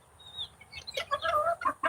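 Backyard chickens, including two roosters and hens, make a flurry of close, loud clucks and squawks. The calls come in quick, uneven bursts and grow busier toward the end, with no talking.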